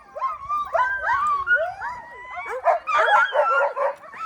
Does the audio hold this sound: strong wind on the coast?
no